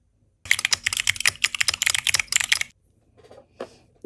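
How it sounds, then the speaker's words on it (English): A clicky keyboard rattles through a fast, continuous run of keystrokes for about two seconds, close and loud, followed by a few scattered softer taps. "I'm gonna insert the clickety clackety keyboard"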